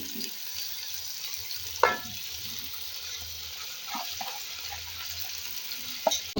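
Lentils tipped into a pan of sautéed onions for Turkish-style lentils, setting off a steady, close frying sizzle with a few brief stirring knocks, and no talking.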